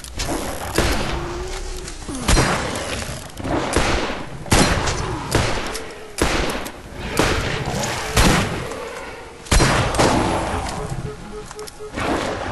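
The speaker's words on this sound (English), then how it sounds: "Well, it's a shotgun. It's really powerful." Shotgun blasts in the Borderlands video game, a series of loud booming shots spaced a second or two apart amid game effects.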